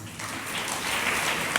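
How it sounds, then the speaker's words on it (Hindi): A crowd applauding at a religious gathering, a dense wash of hand clapping that swells slightly over a second and a half with no talking. "अब बजा दो ताली अच्छे से।"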